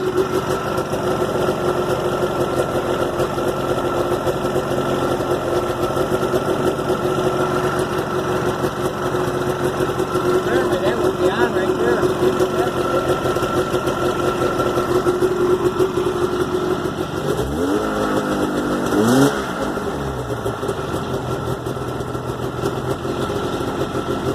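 A Yamaha snowmobile engine idles steadily and fairly close, a continuous mid-pitched mechanical drone with a brief rising rev or clatter near the end.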